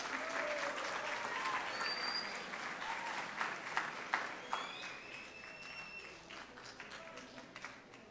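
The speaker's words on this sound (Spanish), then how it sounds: "Las recibimos con un aplauso." Warm applause from an assembly audience welcoming a secondary school students' federation onto the stage, steady crowd clapping at moderate distance that gradually thins, with faint whistles and voices mixed in.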